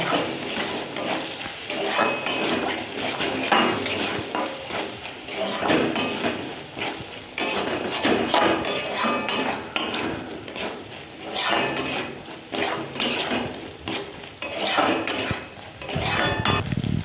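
Masala with chilli powder, sugar and tomato is worked in a pan for matar paneer, with repeated rhythmic scraping and clanking of a spoon against the metal over a low sizzle, loud and close throughout.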